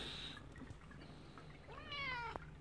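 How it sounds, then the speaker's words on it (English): An Egyptian Mau cat gives one clear, drawn-out meow near the end, after a brief high squeak at the start, in an otherwise quiet room. "Why are you meowing?"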